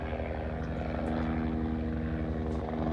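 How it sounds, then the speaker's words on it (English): A black helicopter circles overhead, its steady rotor chop loud and continuous with a droning engine hum throughout, no voices. "It's a black helicopter."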